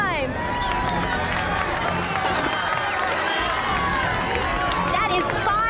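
A television studio audience cheering loudly and continuously for a concrete-breaking stunt, a dense wall of shouts and whoops with voices mixed in throughout.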